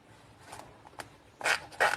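A zipper is pulled along a sewn fabric pencil case. Two quick, close rasping strokes come near the end after quiet handling rustles, and no one speaks.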